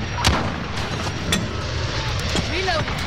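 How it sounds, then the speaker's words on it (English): Airstrike explosions in Call of Duty Modern Warfare on the Shipment map, booming blasts and gunfire crackling over a dense battle din, with a few sharp cracks standing out. "airstrike"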